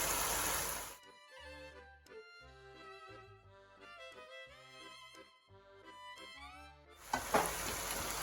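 Fluffed basmati rice sizzles loudly in a hot pan for Thai basil fried rice, in short bursts at the start and end, with a stretch of tonal music filling the middle.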